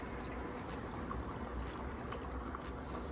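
Mezcal margarita poured over small ice cubes, a steady liquid trickle and splash under broad hissing noise, with no clear clinking of ice.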